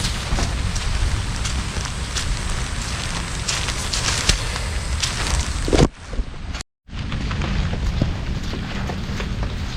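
Steady, dense rain hiss with low rumble throughout, briefly dropping out near the end before resuming.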